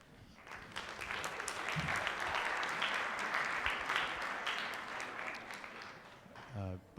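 Audience applause for junior high choruses after a Christmas song at a school winter concert, a dense sustained clapping from a crowd in a hall that swells and holds for several seconds before fading as a voice begins.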